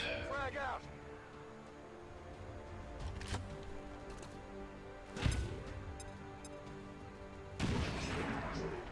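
Grenade blast and gunfire in the video game XCOM 2: a heavy explosion bursts out midway, with scattered shots and impacts around it and a loud crash near the end, over a low game soundtrack bed.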